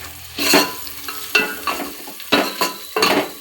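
A spoon stirs turmeric into a frying puffed-rice uggani mixture in a pan, giving about five rhythmic scraping strokes over a light sizzle, close and clear.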